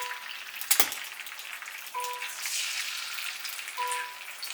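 Two eggs frying in leftover bacon fat in a pan, a continuous crackling sizzle after a sharp clack near the start, with faint beeping tones in the background.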